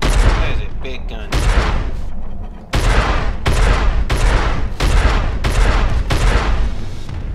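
Heavy booming shots from a big gun in Star Citizen ring out in a steady rhythm of about nine blasts, each cutting off into the next, loud and close with a dense rumbling body.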